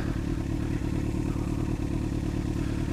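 A motorcycle rides along a snowy road, its engine giving a steady, muffled low drone, mixed with constant clatter and rumble from the bike, with no voices heard.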